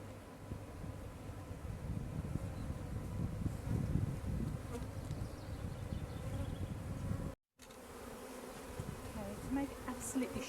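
Many honeybees buzz continuously around an open, aggressive hive during re-queening, a dense, close droning hum that briefly cuts out before resuming.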